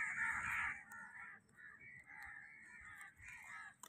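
Crows cawing near their nest, a run of harsh repeated caws close by, some continuous and some broken up, with faint voices underneath.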